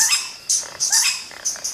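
A Vogelkop bowerbird mimics a modest tiger parrot with a quick series of high, shrill chirps and squeaks in short bursts, sharp and near.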